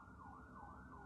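An emergency siren wails steadily outside, its tone rising and falling in slow sweeps, faint and muffled as if heard through walls.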